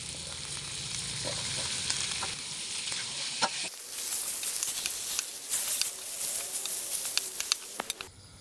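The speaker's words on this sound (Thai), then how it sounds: "หมูเริ่มสุกได้ที่แล้ว เรามาใส่ถั่วฝักยาวกันเลยนะครับ" Pork with long beans stir-fried in a hot pan, a loud continuous sizzle with scraping stirs and spattering crackles that sharpens after the beans go in.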